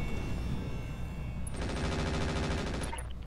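AC-5 autocannon fire in the BattleTech Roguetech mod: a dense, steady run of heavy rapid shots that thickens into a fast rattling burst partway through, loud and close with no talk.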